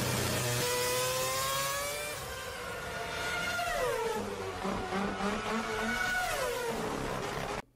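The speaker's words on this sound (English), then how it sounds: "You can hear the roar of those engines." Race car engines in a generated scene roar past one after another, rising and falling pitch sweeps as the cars accelerate and blur by, loud and close with no talking.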